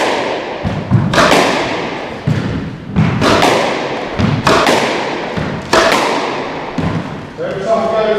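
A squash ball struck with a Dunlop Force Evolution racket thuds repeatedly against a court wall, about nine sharp close impacts at an irregular steady pace, each with a short echoing tail.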